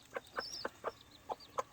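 A gamefowl mother hen near her eight chicks gives soft, close clucks, six short throaty notes in an uneven rhythm with a faint higher chirp between them, quiet and alone.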